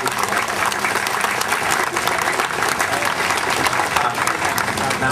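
Sustained applause from a crowd at a bank branch opening, dense and even clapping throughout, fairly loud and close.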